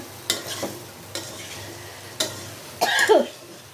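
A spoon scrapes and stirs through taro pieces sautéing with shrimp in a pan, four distinct close scraping strokes over a soft, steady sizzle.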